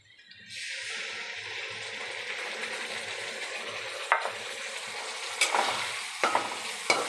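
Potatoes fry with a steady, close sizzle in a pan as spices are added, a few sharp scraping clicks from stirring punctuating the continuous hiss.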